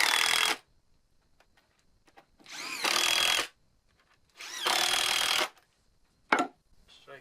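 A power drill driving screws into wooden sidewalk boards for a motorcycle platform, three long whirring bursts separated by quiet pauses, then a short final spurt, close and clear.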